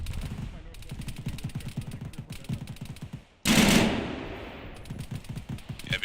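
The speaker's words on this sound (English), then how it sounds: "Let's keep firing." Rapid machine gun fire rattles in sustained bursts in a war video game, the close, dense volleys breaking off briefly before a louder, harsher burst erupts and continues.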